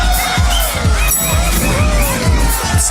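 A crowd at a rally party keeps up a loud, dense roar of cheering and babble, with scattered shouts and whoops rising above the constant din.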